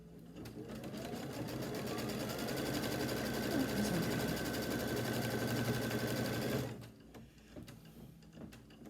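A sewing machine runs steadily for about six and a half seconds, stitching folded fabric on an heirloom quilt, a loud, even mechanical whir that stops abruptly, leaving quieter handling sounds.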